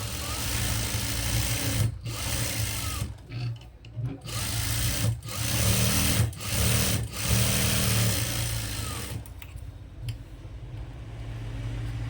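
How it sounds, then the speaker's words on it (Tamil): A sewing machine runs in bursts while double stitching the pocket of a chudi pant, a loud close whirring hum with short pauses between runs and no talk. "இதுக்கு நான் வந்து டபுள் ஸ்டிச் கொடுக்குறேன்."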